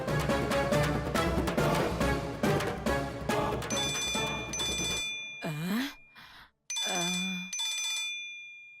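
A telephone rings with a steady electronic trill that starts partway in, first beneath loud dramatic music and then continuing over a few spoken phrases from a Tamil TV serial scene.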